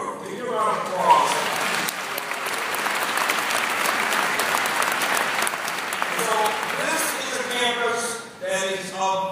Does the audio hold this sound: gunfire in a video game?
no